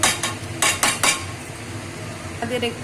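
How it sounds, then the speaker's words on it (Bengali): Metal clatter as a lid goes onto a pot of mutton curry on the stove, heard as several close, quick clanks in the first second, then a soft background hiss and a faint clink near the end. "দিয়ে দিলাম ঢাকনাটা দিয়ে, আধা ঘন্টা খানিক আমি এরকমই রেখে দেবো।"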